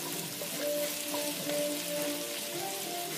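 Potatoes sizzling and frying in olive oil, a close, continuous crackle with faint scraping as they are stirred in the pan.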